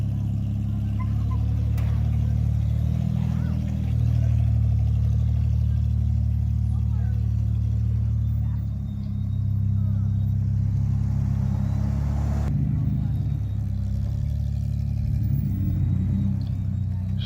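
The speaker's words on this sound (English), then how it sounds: "Next up is John in his Toyota." A heavily modified Toyota off-road rig rumbles past at a steady low pitch during a memorial trail ride, the engine drone continuous and fairly close, with a brief swell as it moves by.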